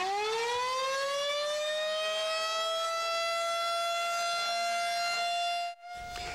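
Dane County's monthly outdoor civil defense siren test sounds as a loud, sustained wail that holds one steady pitch, then cuts off abruptly near the end.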